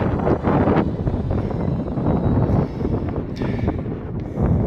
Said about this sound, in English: And the wind is helping me cool off.